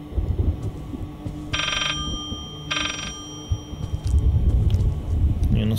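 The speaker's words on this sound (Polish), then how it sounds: "Nie no, słyszę wyraźnie telefon," A telephone bell rings in the horror video game Layers of Fear, two bright rings with a gap between them over a dark, rumbling ambient background.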